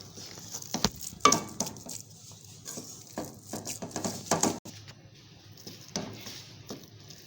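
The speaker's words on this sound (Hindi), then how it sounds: "इसमें ये हरा धनिया थोड़ा सा, और इसको मिक्स कर देंगे" A spoon stirs fresh coriander into mashed potato bharta, giving soft, moist squishing and scraping strokes in an irregular rhythm, close and quiet, with no talk.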